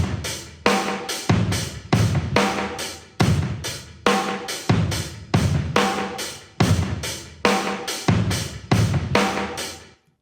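Drum mix delay channel given a slight mid-range boost around 700 hertz, loud steady pattern of kick and snare hits with echoing tails, no speech.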